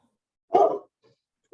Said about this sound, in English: We need to quiet the doggy.